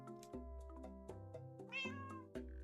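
A cat meows close by, a drawn-out series of tonal, wavering calls running over about two and a half seconds, with a sharper rising cry near the end.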